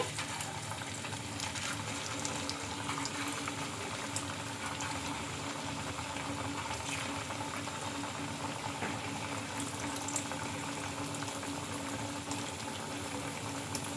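Sooji snacks fry in hot oil in a kadai, giving a continuous, even bubbling sizzle close by with faint clicks, and no talking.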